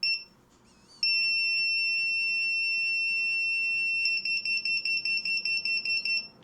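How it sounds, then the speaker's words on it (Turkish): Electronic alarm beeping from a homemade replica of the Counter-Strike C4 bomb: a steady high-pitched tone holds for several seconds, then breaks into rapid repeated beeps, loud and close with no talking. "bip sesi aktif olarak devam edecek"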